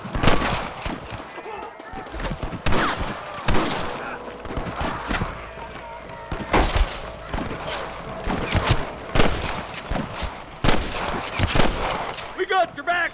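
Rapid bursts of gunfire in Red Dead Redemption crack repeatedly, loud and close, with volleys overlapping in a chaotic firefight.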